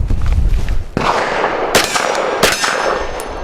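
A Canik METE SFX pistol fires several loud close shots at an outdoor range, each a sharp crack with a metallic clang, spaced roughly a second apart.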